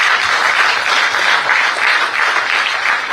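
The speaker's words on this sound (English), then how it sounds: "he deserves the biggest round of applause for this achievement" Enthusiastic applause fills a hall at a felicitation ceremony honouring a surgeon's achievement, with loud, continuous clapping from a sizeable audience pulsing gently throughout.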